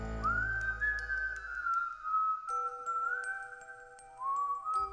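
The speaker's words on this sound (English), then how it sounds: "we heard the whistling." Eerie whistled melody as a sound effect in a scary story narration, a single clear wavering tone sliding up and holding, fading out and returning, over a faint low drone, with no voice over it.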